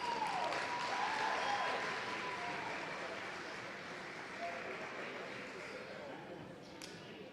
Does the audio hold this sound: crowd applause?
yes